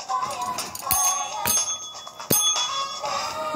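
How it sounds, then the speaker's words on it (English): A desk bell is rung several times, giving bright metallic dings at irregular intervals that sound close and clear over quiet room background. "So every time when I press this bell, that means you have to kiss me."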